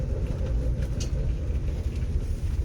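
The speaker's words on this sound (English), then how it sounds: "You can get a feel for how bad she's misfiring and shaking and rattling and rolling and not happy." A Mercury Cougar with a misfiring engine drives along, shaking and rattling. Heard from inside, it is a steady low rumble with uneven knocks and no talking.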